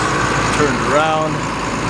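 A Claas Lexion 570 combine harvester's engine running in a winter rye field, a steady loud drone with a rising whine partway through, heard alone and close.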